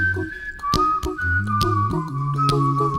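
A bright, clean whistled melody floats over layered vocal harmonies and percussive mouth clicks, with every part sung by one voice.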